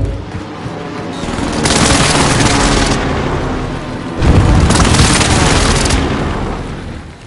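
Video game combat with weapon fire and explosions: two loud sustained bursts of rapid gunfire and blasts, the second erupting with a heavy boom, over a constant battle din.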